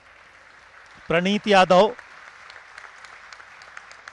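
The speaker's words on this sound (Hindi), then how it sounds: "लेकिन तालियां उनको मिली हैं।" Audience applause at a Mallakhamb competition during the Khelo India University Games 2022 in Uttar Pradesh: steady, moderately loud clapping continues throughout, briefly under a commentator's voice.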